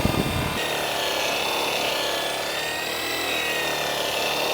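Flannel buffing wheel running at about 2,600 RPM polishing an aluminum serving plate, a continuous loud whirring hiss with rubbing friction, starting with a brief burst and holding steady throughout, no talk.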